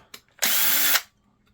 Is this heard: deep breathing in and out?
no